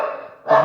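A dog barks twice at close range, loud and abrupt, the two barks separated by a brief gap.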